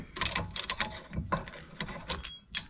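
A hand tool being loosened and removed, a close series of sharp metallic clicks, ratcheting rasps and clunks in irregular bursts, with no talking.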